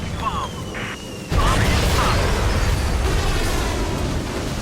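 Bomb dropped from an aircraft exploding in Air Conflicts Pacific Carriers, a sudden loud broadband blast that jumps in level and then rumbles on steadily for several seconds, with game sound effects before it.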